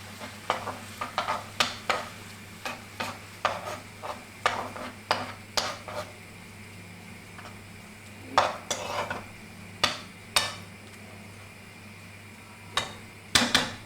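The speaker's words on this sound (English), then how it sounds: "And mix again." A utensil scrapes and clinks in quick, irregular strokes as mushrooms are mixed with sour cream in a pan, close and distinct over a low steady hum.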